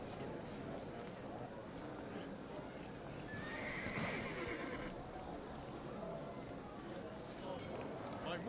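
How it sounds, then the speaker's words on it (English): A horse neighs and whinnies in the Black Desert Online video game, with clip-clop hooves and mixed game ambience underneath, sustained and fairly loud over the whole stretch. "Where's that horse gone?"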